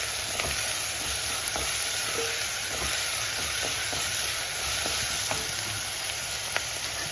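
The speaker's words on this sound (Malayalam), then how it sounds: "കറിവേപ്പില ഇട്ട് കൊടുക്കാം." Curry leaves frying in a pan with ginger-garlic paste for an egg curry, a steady close hissing sizzle with faint crackles throughout, no voices.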